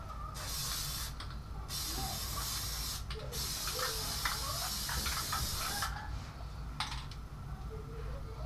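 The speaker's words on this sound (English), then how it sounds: "I definitely sprayed it." Plasti Dip sprayed from an aerosol can onto a car windshield, several close hissing bursts separated by short pauses, with faint rattling and handling noises between them.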